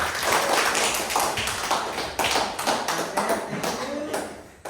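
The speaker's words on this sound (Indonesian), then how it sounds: "kita berikan aplaus dulu" Classroom applause follows a group presentation, with several people clapping in a brisk, uneven patter that lasts a few seconds and then fades out.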